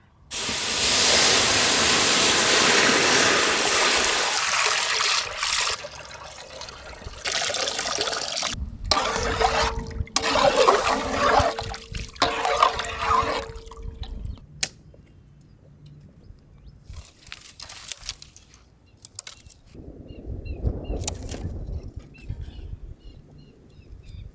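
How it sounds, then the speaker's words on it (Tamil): Tamarind water poured into a very hot pan while cooking freshly caught pond fish, bursting into a loud hissing sizzle that fades over several seconds, followed by quieter intermittent bubbling and spluttering. "சட்டி நல்ல சூடாட்டமுக்கா. புளி கரைச்சல ஊற்றி வேண்டியான்."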